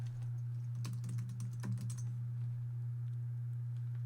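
Quick bursts of typing on a computer keyboard, a cluster of light clicking keystrokes close by over a steady low electrical hum, then the tapping fades and only the hum remains.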